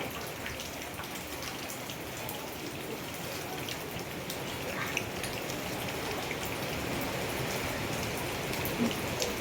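Heavy rain pours steadily during a cyclone, a dense, continuous hiss of drops hitting surfaces that holds constant and slightly swells, with no voices.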